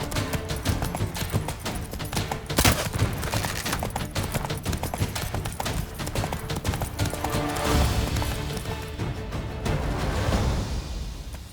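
Galloping hoofbeats from Roach, Geralt's horse, racing in The Witcher 3: Wild Hunt, a fast, continuous drumming rhythm under a loud, busy game soundscape with no talk.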